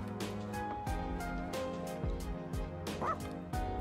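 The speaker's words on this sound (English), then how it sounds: "Bark." Dog barks and yips from the Persona 3 video game, a series of short sharp yelps repeating roughly every half second over a steady game music bed.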